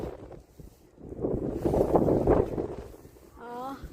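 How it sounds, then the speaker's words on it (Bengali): Wind gusts at the Bakkhali beach eco park rumble across the microphone, rising and falling beneath a person talking. "কি হাওয়া দিচ্ছে, দারুণ।"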